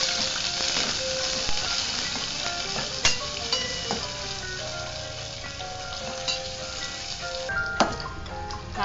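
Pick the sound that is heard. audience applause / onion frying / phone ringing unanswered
onion frying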